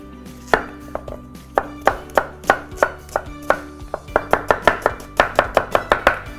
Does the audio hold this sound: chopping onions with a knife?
yes